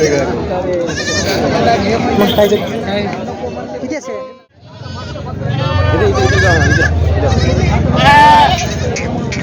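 Many Osmanabadi goats bleat loudly and repeatedly amid a busy crowd at the Khandoba goat market in Parbhani, with people talking nearby and market chatter filling the background.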